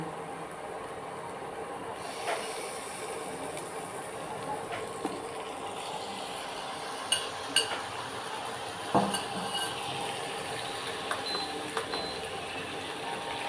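Pre-cooked chicken goes into a pan of fried onions, giving a quiet steady sizzle broken by several sharp clinks and scrapes of a utensil against the pan, with no talking.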